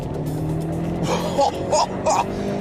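A SAAB car accelerates hard in second gear, its engine note loud and close with rising surges and a few brief bursts toward the end.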